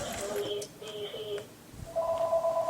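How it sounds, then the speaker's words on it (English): A studio telephone rings in two short electronic trills, then a steadier tone follows, fairly close and clear over a quiet room. "and there's our studio phone ringing"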